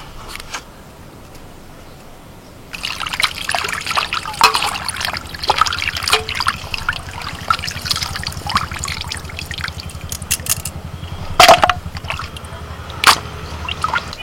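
Chicken pieces being rinsed in water, with steady trickling and splashing, occasional drips and sharper clinks near at hand after a quieter start.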